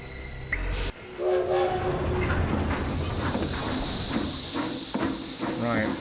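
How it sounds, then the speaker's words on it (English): A train pulling out of a station in the video game The Lost Crown: a loud whistle blast and rolling carriage rumble with clatter, while people talk over it. "Right, that was the train leaving."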